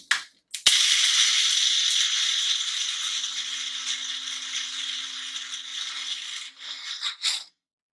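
An electric grinder pulverizing quail egg shells into dust on a farm, a loud, steady whirring rattle after a brief start-up, running for several seconds before winding down and cutting off abruptly.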